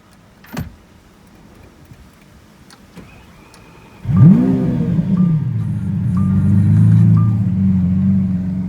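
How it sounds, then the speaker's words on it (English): A click and brief whir, then a 2015 Lamborghini Aventador with race exhaust fires up with a loud bark and settles into a deep, rumbling idle with a few blips. "we're going to get a startup and some revs on the 2015 Aventador with the race exhaust"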